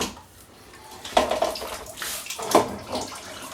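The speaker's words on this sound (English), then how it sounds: "I'm going to just rinse it with another 2 litres of hot water, so there's a 10 litre sparge altogether" Hot water poured over grain to rinse it during a home-brew sparge for a Belgian Dubbel, a splashing, gushing pour in two louder bursts close by, with no talking.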